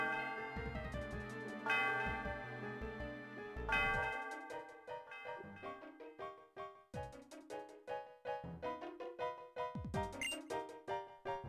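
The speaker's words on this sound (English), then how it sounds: "a moment of silence while I ring the bell" A bell rung in the Pokemon Black video game, with resonant chimes and tones that ring and decay over a steady soundtrack, loud and alone without talk.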